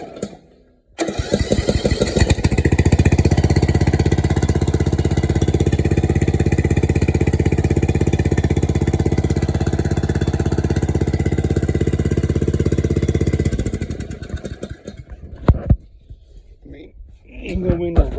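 A Craftsman R110 riding lawn mower with a 17 hp, roughly 500 cc engine runs loudly and steadily close by for about twelve seconds, then cuts off, leaving quiet with a few faint knocks.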